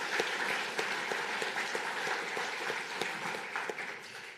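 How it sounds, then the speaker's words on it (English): Audience at a reef resilience symposium applauding together, a steady broadband wash of clapping held at moderate distance for the whole stretch, with a few sharper individual claps standing out. "So can I have a round of applause to warm us up for all the amazing speakers?"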